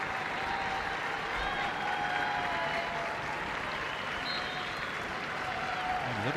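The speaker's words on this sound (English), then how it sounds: "She gets warm applause from the Liverpool supporters as well as the Chelsea ones when she comes onto the field." Warm applause from Liverpool and Chelsea supporters at a Women's Super League football match as Lucy Bronze comes onto the field, a broad, steady crowd wash heard at a distance with faint whistle-like tones over it.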